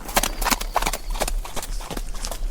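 Horses' hooves clip-clop in a steady, fairly close rhythm as mounted officers and soldiers ride back toward a cantonment at night.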